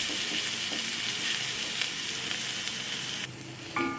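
Ground poppy seed paste fries in mustard oil as it is stirred, a steady close sizzle that drops slightly near the end before a brief utensil clink.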